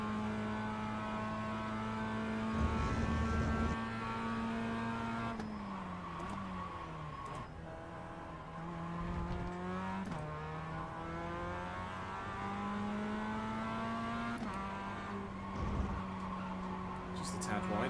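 Mazda race car lapping a circuit in iRacing, its engine droning steadily with rising and falling pitch through gear changes, loud and continuous throughout.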